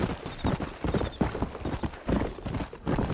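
A horse gallops in Red Dead Redemption, hooves drumming in a fast, steady rhythm close up with a brief faint whinny, no talk over it.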